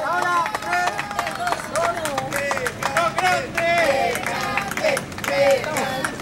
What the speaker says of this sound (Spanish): fuerte el aplauso, chiquillos